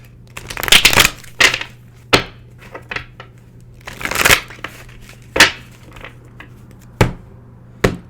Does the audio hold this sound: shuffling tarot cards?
yes